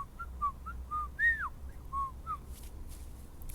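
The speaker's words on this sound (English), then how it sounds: "I can normal whistle." A person whistles a short run of clear, bright notes, close and alone, with a few brief tones and one rising-and-falling slide before the whistling stops.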